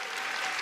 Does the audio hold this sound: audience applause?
yes